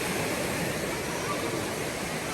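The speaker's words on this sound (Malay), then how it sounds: "Syukur dapat tengok air ni, air sungai ni" River water flowing steadily at a campsite, a dense, continuous rushing wash heard close and fairly loud, with no clear talk.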